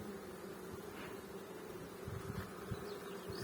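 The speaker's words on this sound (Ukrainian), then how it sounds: "Бджолки спокійні, сидять, не працюють." Honeybees buzzing steadily at an opened hive in an apiary, a dense continuous hum with a few louder passing bees close by, no voices.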